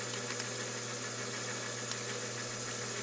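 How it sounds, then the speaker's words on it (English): A metal lathe turns the outer diameter of a part for a lathe-built engine, giving a steady, continuous mechanical hum with a low drone and machine vibration throughout, with no talking. "Then I will turn the OD of this to the dimensions specified in the drawing."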